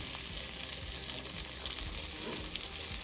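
Chicken pieces sizzle steadily in a hot pan as they fry toward golden brown for honey garlic chicken, a dense continuous crackle with no talking.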